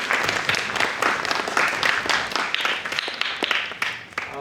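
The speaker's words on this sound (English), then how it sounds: "A big round of applause for Jody in the booth." Audience applause at a school band concert, a dense wash of many hands clapping steadily throughout, loud and close, with no voices over it.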